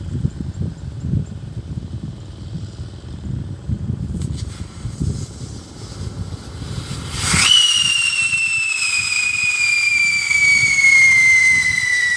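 A whistle bomb firework: a rumbling crackle gives way to a sharp bang, then a loud, piercing whistle that slowly drops in pitch and keeps shrieking steadily.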